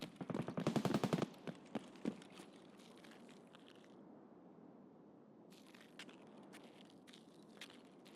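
AK rifle fire in Escape from Tarkov SPT on the Streets of Tarkov, a loud rapid burst followed by a few scattered single shots, then quieter footsteps and rustling.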